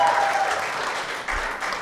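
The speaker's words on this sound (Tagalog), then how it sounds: "Pwede bang pumalakpak ng malakas yung mga taga-Laguna?" A church congregation at an online Sunday service breaks into loud, sustained applause, a dense close wash of clapping that continues throughout with no speech over it.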